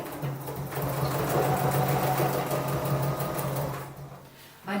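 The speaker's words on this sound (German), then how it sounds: "Ich nähe jetzt den Taschenboden an." A sewing machine runs steadily at close range, sewing a straight-stitch bottom seam on a cork fabric shopper bag, with a continuous whirring hum that ends abruptly.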